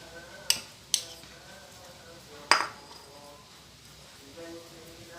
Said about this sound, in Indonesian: Kita campurkan hingga mentega dan adonannya menyatu ya teman-teman.